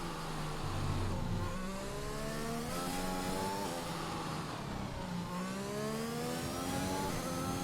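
An F1 2021 race car engine drones while entering the pits at the Austrian GP in the video game, a continuous, sustained whine whose pitch dips and climbs, with no talk over it.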